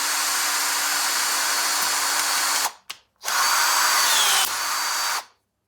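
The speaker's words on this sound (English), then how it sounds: "It's snapping the rivet off halfway up the shaft" A Yuhtech electric riveter whirs loudly while snapping off a rivet. It gives a long buzzing run, a brief pause with a click, then a second sustained run that cuts off.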